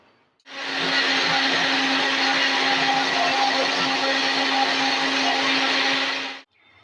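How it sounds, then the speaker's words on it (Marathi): A mixer grinder blends spiced buttermilk (mattha) in one loud, steady whir lasting about six seconds, starting and stopping abruptly with no talk. "आता आपण हे ताक मिक्सरला फिरवूया म्हणजे मठ्ठा मिक्सरला फिरवूया"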